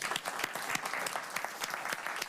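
A conference audience applauds after a talk, a dense burst of clapping from many hands heard close and alone for a couple of seconds.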